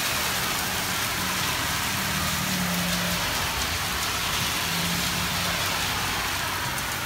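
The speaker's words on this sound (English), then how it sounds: "Never seen it rain like this up here" A constant monsoon downpour of heavy rain drums on surfaces in Big Bear Lake, California, thick and unbroken, with a faint low rumble beneath.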